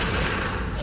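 A single loud, close gunshot burst in Fortnite, a brief blast filling the whole moment with a dense boom.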